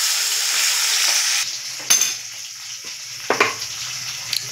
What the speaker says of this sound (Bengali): মাছটা একটু উল্টে পাল্টে ভাজা হয়ে যাচ্ছে, একটু কড়া ভাজা করে খাওয়া হয়।